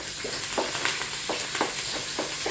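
Tomato curry with onions and curry leaves being stirred in a hot pan, steady sizzling and frying with repeated scraping strokes of a spoon at a regular rhythm, close and fairly loud, no talk.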